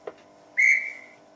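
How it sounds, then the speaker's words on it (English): An Accurascale class 92 model locomotive's sound function plays a dispatch whistle, a single short, clear, shrill blast that fades off quickly, heard alone after a faint click. "F10 is dispatch whistle."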